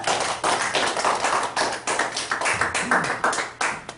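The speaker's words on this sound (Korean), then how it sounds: "큰 박수 한번 좀 주세요" An audience at a lecture applauds, with steady clapping that rises and falls in quick bursts for several seconds and no talking over it.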